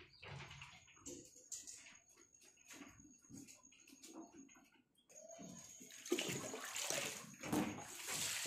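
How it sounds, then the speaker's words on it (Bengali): Water poured from a vessel onto potted plants, including a rose bush, outdoors in the morning, a soft splashing wash that swells louder in the last few seconds after quieter trickles and small sounds. "একটু জল দিয়ে দিই।"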